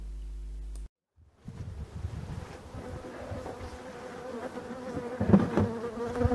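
Honeybees buzz around a beehive during a summer chestnut and lime honey flow, a low steady hum of many insects after a brief loud hum cuts out, with some wind noise.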